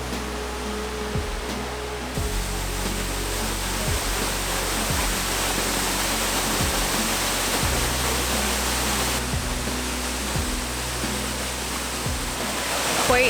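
Waterfall on São Miguel in the Azores, a loud continuous roar of falling water close by, with faint periodic low thumps beneath and no clear talk.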